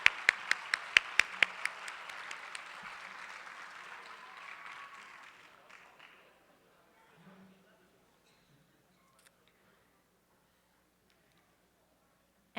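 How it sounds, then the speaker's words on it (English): An audience at a poster contest awards ceremony breaks into applause for the finalists: a few sharp claps at first, then a dense round of clapping that fades out over several seconds into near silence. "Let's give a big round of applause to all of our 58 outstanding finalists of the 2007 I Love My Neighborhood Poster Contest."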